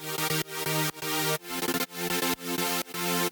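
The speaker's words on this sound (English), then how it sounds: "I used one of the layers of the chord stabs to make this kind of rhythm thing." A rhythmic pattern built from one layer of chord stabs in a house-style electronic track, with repeating bright chord hits that each sustain briefly before cutting off, loud and alone.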